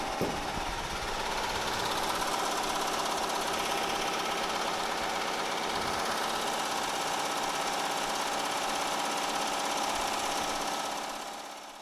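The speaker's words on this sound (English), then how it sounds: "We're almost done with sewing." Embroidery machine stitching a bucket hat, a steady, rapid mechanical chatter and hum running continuously at close range, winding down at the very end.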